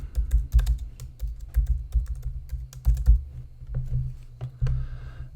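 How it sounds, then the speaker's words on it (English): Typing on a computer keyboard while entering text into a text box, with quick, irregular clicky keystrokes arriving in bursts and short pauses, close and fairly quiet, and no voices. "I can now type inside of this text box."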